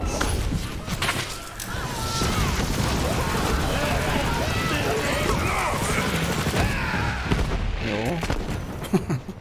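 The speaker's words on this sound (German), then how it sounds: "Oh, schießen schon wieder." Sustained bursts of gunfire in a Borderlands 3 shootout roar continuously over a busy, loud combat mix, with a player speaking in German over the shooting.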